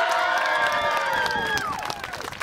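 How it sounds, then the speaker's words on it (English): A crowd at a street performance cheers and shouts together, a loud, dense burst of whoops and high voices that holds steady and then tapers off toward the end. "Big cheer!"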